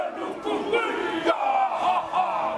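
Crowd chanting a haka together at a large hīkoi marching through Wellington, a dense wall of loud shouted voices in rhythmic bursts, close and continuous throughout.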